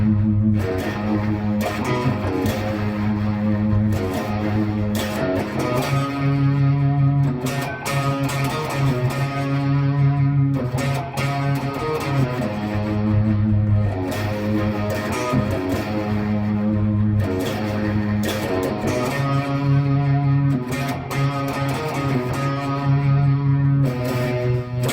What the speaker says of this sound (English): the second guitar part that follows along and the chords here is basically single notes played with a bit more gain